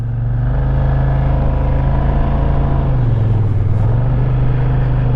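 A white car following close behind a Kimberly AK550 scooter on the road, heard as a loud, steady low engine and road rumble with a constant drone and slight pitch shifts, with no talk.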